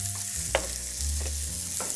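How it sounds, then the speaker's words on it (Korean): Thinly julienned zucchini stir-frying in a hot pan, a steady sizzle broken by a few sharp scraping stirs, close and clear with no talking. "호박 넣고 볶으세요"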